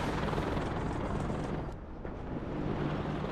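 Helicopters in the WARNO real-time strategy game, a steady broadband rotor-like roar that stays loud and continuous throughout, with a brief dip midway and faint rumbling bursts underneath.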